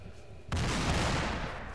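Satchel charge on a timer detonating in the military shooter ArmA 2, a single sudden heavy blast that rolls on as a broad, sustained rumble.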